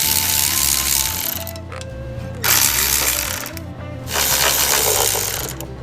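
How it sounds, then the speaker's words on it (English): A ratchet clicks rapidly while 10mm bolts come off the bottom cover of an '08 Honda Accord Coupe, loud close bursts of ratcheting separated by brief pauses and metallic handling. "Now we got to take off all the 10mm bolts on the bottom cover."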